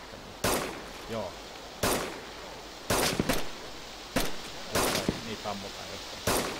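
Six sharp gunshots crack out one at a time at irregular intervals, each a sudden broadband burst with a short echoing tail, fired from somewhere at moderate distance over a low rumbling background.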